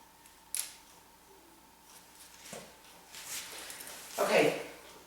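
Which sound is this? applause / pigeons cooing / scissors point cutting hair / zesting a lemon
scissors point cutting hair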